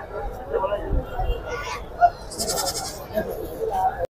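Goats bleat at a busy livestock market in Mydukur, several short calls mixed into a steady crowd murmur, with people talking nearby throughout.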